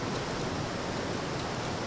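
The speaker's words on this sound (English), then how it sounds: "Ooh, this waterfall is really loud." Loud, steady rush of a waterfall in the video game Grow Home, a dense continuous broadband roar filling the whole clip with no speech over it.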